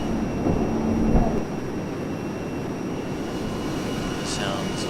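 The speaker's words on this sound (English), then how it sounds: "the actual sound of the jet. It's a real fuzzy sound and it gets quite irritating" A-10C jet in the ArmA 3 game, a steady fuzzy engine drone with broad rumble and a faint high whine, continuous and fairly loud, with someone talking over it.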